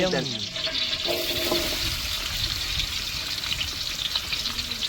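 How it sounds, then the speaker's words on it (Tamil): Onions frying in coconut oil give a steady, loud hiss that continues without a break, with some brief tonal clinks near the start. "வெங்காயம் பொரிஞ்சு முடிந்து விட்டது"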